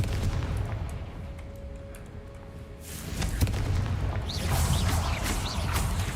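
A Confringo blast spell going off in a video game, a booming explosion burst after a quieter stretch, followed by crackling, rumbling debris and a sustained roar.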